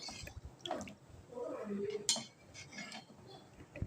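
Rice flour dough for Chettinad milk kozhukattai is stirred in a pan on the stove with quiet, irregular scrapes and light taps of the spoon against the pan. Brief soft voices come and go.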